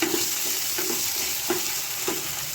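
Tomatoes drop into a pan of fried onions and sizzle steadily, with a spoon stirring in soft repeated scrapes about every half second; close, continuous frying hiss throughout.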